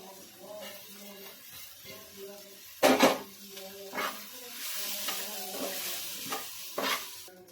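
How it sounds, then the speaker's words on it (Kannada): Soaked poha (flattened rice) tipped into a hot pan with tamarind and stirred, giving a steady close sizzle with scraping spoon strokes and a few sharper clatters against the pan, no talk. "ಈಗ ಇದ್ರಾಗ ತೋಸಿಟ್ಟಿದ್ದ ಅವಲಕ್ಕಿ ಹಾಕೊಂತೇನ್ರಿ"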